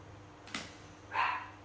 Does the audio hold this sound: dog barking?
yes